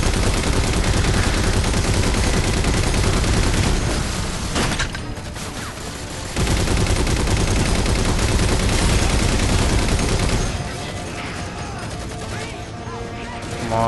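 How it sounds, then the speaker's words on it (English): Sustained turret fire in the Halo 4 video game, a loud, dense automatic barrage that drops out briefly twice before resuming, with the hammering bursts dominating throughout. "Grab this turret."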